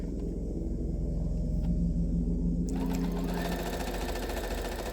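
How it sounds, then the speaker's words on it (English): A sewing machine stitches fabric for a decorative pillow, running in a continuous, fast mechanical whir with a steady rhythmic hum close by and no talking. "So I'm going to turn this back around, sew a little bit more."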